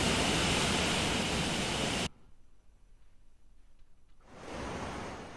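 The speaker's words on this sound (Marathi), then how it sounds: "नदी नाल्यांना पूर आलेला आहे।" Torrential flood water rushing through swollen rivers and streams during heavy monsoon rain in Palghar: a loud roaring wash that cuts out abruptly, leaving a low murmur, then returns strongly near the end.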